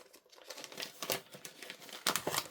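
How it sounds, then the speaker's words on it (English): Card being handled and pressed through a craft die-cutting machine with a single die: close crinkling and rustling with a few sharper crackles, the loudest near the end, with no talking. "So I'm just going to cut it again."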